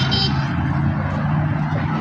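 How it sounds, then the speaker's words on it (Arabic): A car's engine idling close by, a steady low rumble with a constant hum and brief higher tone near the start, continuous and fairly loud. "هاي السيارة راح اروح بيها الكربلي"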